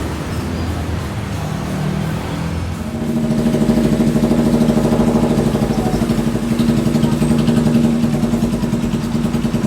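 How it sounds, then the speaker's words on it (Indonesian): Motorcycle engine idling steadily after an ignition rework, a close, even mechanical drone with a brief blip of revving partway through, no talking over it. "Jadi pengapiannya dirombak. Ada yang dirombak sedikit supaya mesinnya lebih enak."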